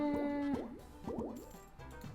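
Cartoonish bubble plops in the Tasty Treats slot video game, a cluster of quick popping bubbles twice in a row over a held musical tone and light game chimes.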